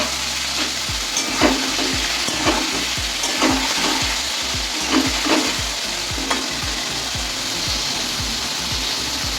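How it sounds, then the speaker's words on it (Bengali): Boiled jackfruit fries in a pan with a steady, close sizzle, broken by repeated scraping and clacking of a spatula stirring it. "এই চটটাকে আমিও ভেজে নেব একটু।"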